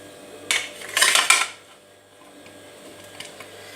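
Pieces of mango for homemade pickle clatter into a metal pot of cooled oil, a few sharp metallic clinks and scrapes in a short close burst, then quiet with faint scattered taps.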